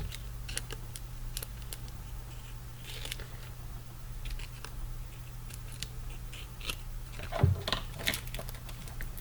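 Scissors snip away excess paper while making a paper pizza squishy, giving faint, close, irregular cutting clicks and crinkles over a low steady hum.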